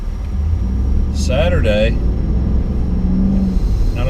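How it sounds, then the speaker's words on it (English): Car traffic rumbles steadily nearby on a road, a low continuous engine drone with a faint mid-pitched tone late on, while someone talks briefly over it. "waiting for traffic here"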